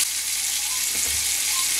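Pointed gourd pieces seasoned with turmeric and salt fry in hot oil, giving a loud, even, close-up sizzle with a brief low stirring knock midway.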